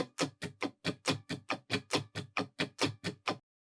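Muted guitar strums in a quick, even sixteenth-note pattern, percussive choppy strokes with regular accents, ending abruptly.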